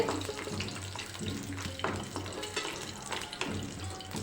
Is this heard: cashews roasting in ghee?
yes